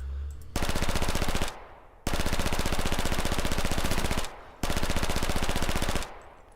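A select-fire Vietnamese weapon in the Rising Storm 2 video game fires three long automatic bursts of rapid, evenly spaced shots, loud and close, with brief pauses between them.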